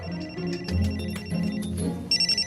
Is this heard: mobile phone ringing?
yes